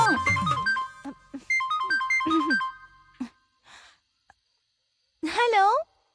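A mobile phone ringtone plays a melodic tune through several repeated phrases at night, then stops; a voice and another short chirp follow near the end.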